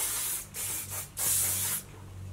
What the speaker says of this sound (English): I like to spray the hair. So this is just like a body spray.